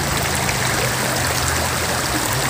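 Fast-flowing river water rushes in a loud, continuous broadband roar up close beside a fishing spot, with no voices over it.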